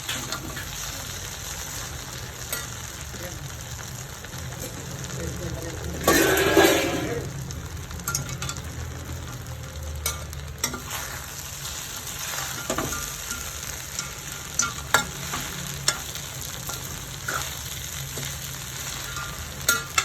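Grated coconut being dry-fried in a pan for wheat sooji upma, a constant low crackle with scattered scraping strokes and one louder burst of stirring early on.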